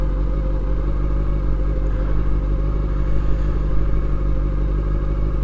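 A 400cc learner motorcycle rides and corners with a steady, loud engine drone heard close up, holding an even pitch throughout with no talking.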